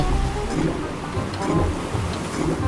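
A lightning storm attack in the GPO video game produces a dense, continuous roar of crackling rain-like noise and rumbling, loud and steady throughout.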